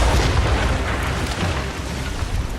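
Ship cannons fire in a naval battle in Assassin's Creed Rogue, a loud, continuous barrage of booming blasts that rolls on without a break for the whole stretch.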